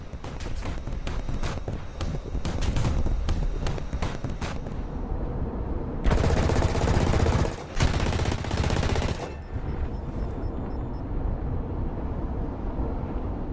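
Rapid bursts of aircraft cannon and machine-gun fire rattle continuously during a fighter attack on a Sabre jet, with a louder, denser volley in the middle before settling back to steady gunfire.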